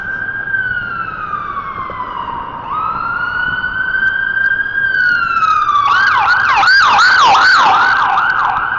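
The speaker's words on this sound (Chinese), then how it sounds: "果然是救护车" Wailing ambulance siren on a downtown Toronto street, starting as a slow rising-and-falling wail and switching to a rapid yelp near the end, loud and close over steady traffic rumble.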